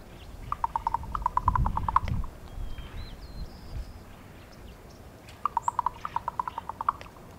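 A female raven gives longer clicking sounds, two rapid trains of sharp knocking clicks, one early and one late, with faint chirps between them over a quiet outdoor background.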